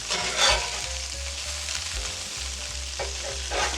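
Mushroom burgers fry in a cast iron pan with a dense, even sizzle and a couple of louder spits and scrapes as they are flipped, close-up and steady with no talking.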